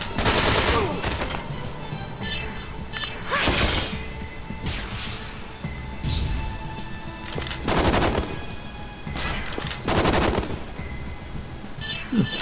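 Video game gunfire: dense, loud bursts of rapid shots and heavy blasts repeat throughout, mixed with crashes and shattering impacts, close and continuous with no talk.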